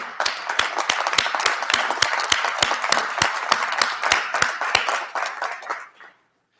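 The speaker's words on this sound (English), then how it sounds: "I invite you all to stand up, turn around, salute and applaud your family and friends who are right behind you" Graduates at a university convocation ceremony applaud their families and friends, producing steady, fairly loud group clapping with distinct sharp claps standing out, sustained for about six seconds before quickly dying away.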